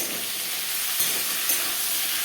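Potatoes and flat beans frying in a pan, a steady loud hissing sizzle heard close up, with two soft stirring knocks in the short stretch.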